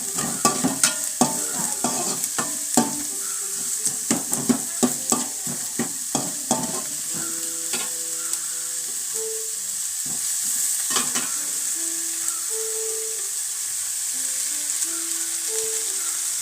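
Rapid spoon scrapes and taps against a pan during stir-frying of agathi leaf thoran over a steady, loud sizzle, dense at first and then easing into a continuous frying hiss with faint background tones, close up, no talk.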